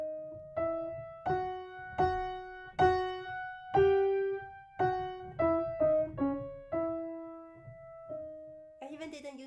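Solo piano played with no sustain pedal, about a dozen separate notes and chords struck one after another at a slow, even pace. Each tone decays cleanly before the next begins, and a brief higher flourish closes the phrase.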